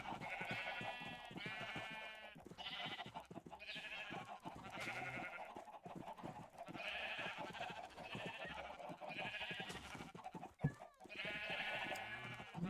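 Minecraft sheep bleat over and over in a game, a steady chorus of overlapping wavering calls with no talk.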